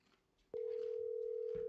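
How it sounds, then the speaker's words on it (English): A telephone call connects with a brief click, then a steady, loud ringing tone holds unbroken after faint background noise. "Do you think people think we're piping in the ringing sound?"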